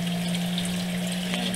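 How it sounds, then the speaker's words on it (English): A sump pump with a float switch running to drain water out of a barrel, a steady hum with a constant rushing, gurgling water noise, close and continuous. "the sump pump will kick in automatically to get the water draining out of the barrel itself"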